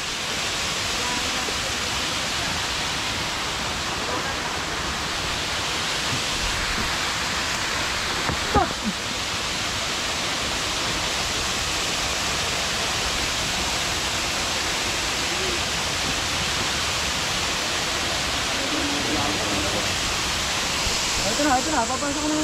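A waterfall on Mt. Makiling pours in a steady, dense rushing hiss, close and constant, with a brief knock partway through and faint voices beneath.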